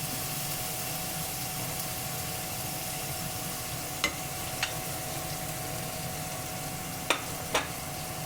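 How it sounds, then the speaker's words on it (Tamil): Ginger frying in hot oil for tomato rice, a steady close sizzle under a faint hum, with a few sharp utensil ticks, no one speaking. "முதல் இந்த இஞ்சியை போட்டு பொரிய விடணும்"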